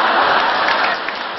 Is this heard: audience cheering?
yes